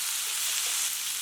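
Tomatoes sizzle and fry in a pan for a spicy tomato chutney, giving a steady, fairly faint hiss with no talking.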